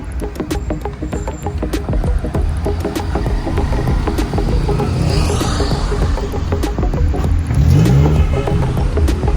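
Cars pull up at an engagement gathering, engines humming and revving loudly nearby over several seconds, building in intensity toward the end.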